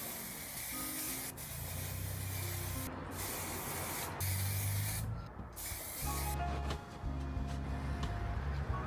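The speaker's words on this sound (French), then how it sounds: "En premier, j'ai utilisé une bombe de peinture qui se rapprochait de la couleur du tapis." A spray paint can hisses onto glued tiles in a series of separate bursts, each a few seconds long with short breaks between them, heard close up and fairly quiet.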